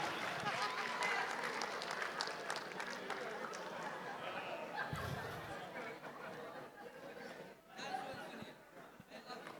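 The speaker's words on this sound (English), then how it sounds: "give everyone a big round of applause and please be seated" A seated audience at an organizational seminar gives a round of applause, a broad wash of clapping mixed with chatter and some laughter that slowly thins out toward the end.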